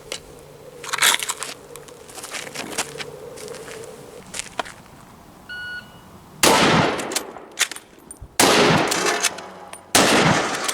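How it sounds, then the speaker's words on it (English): A Savage Scout rifle with a broken ejector fires outdoors on a course of fire, giving several sharp, loud cracks at uneven intervals with quieter clattering and handling noises between the shots. "Now, let's see what the Scout Rifle can do in the exact same scenario."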